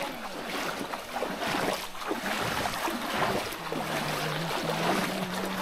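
A boat moving across floodwater in Sylhet, with a steady wash of water and wind, a low engine-like drone and a rising hum, continuous and fairly close.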